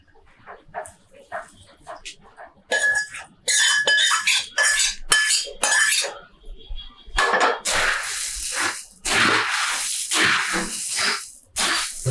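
A spoon stirs puffed rice chivda, producing crisp, rustling scrapes in irregular bursts, sparse at first and then denser and louder, with short gaps between strokes.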